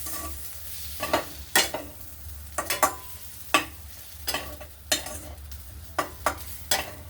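Cooked stuffed brinjal curry with coriander gently stirred in a pan, a soft sizzle under repeated scraping and knocking strokes of a spoon, close and fairly regular, with no talk.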